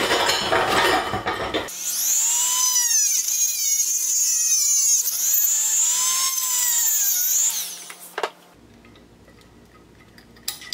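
A Dremel rotary tool whines at high speed while cutting a slot in a part for a Jin Lun 50cc scooter, its pitch dipping and rising under load for several seconds before spinning down.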